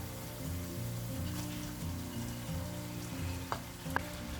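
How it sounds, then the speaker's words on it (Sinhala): Cooked rice tossed and stirred into carrots frying in ghee, a steady close sizzle with low scraping stir sounds and a couple of sharp clinks near the end. "ඊට පස්සේ මම බත් ග්‍රෑම් 600ක් එකතු කරනවා"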